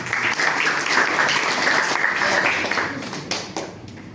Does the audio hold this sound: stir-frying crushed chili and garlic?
no